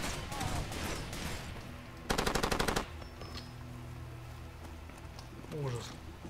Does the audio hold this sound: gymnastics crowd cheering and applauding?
no